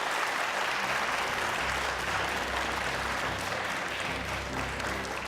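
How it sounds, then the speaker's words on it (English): Sustained applause from an audience at a political debate as running mates are introduced, dense clapping that stays loud and steady throughout. "a round of applause for our running mates"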